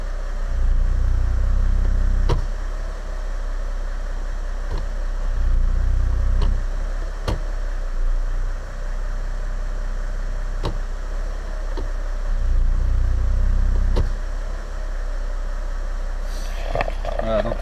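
A Mercedes engine idles with the automatic gearbox in gear after an oil change, a low steady rumble that swells and eases in cycles, with sharp clicks and someone speaking over it.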